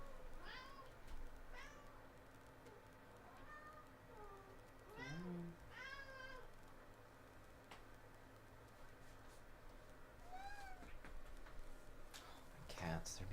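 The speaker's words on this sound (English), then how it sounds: "Cats, they're being so loud and annoying." Cats meow loudly several times indoors over a steady background hum, with repeated yowling calls scattered through the scene and a person speaking in between.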